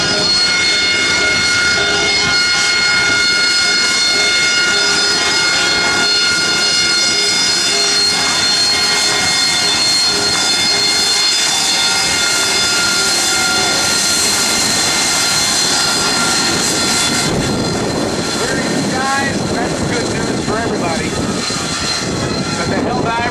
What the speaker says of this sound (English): The sound of the radial engine, 1900 horsepower.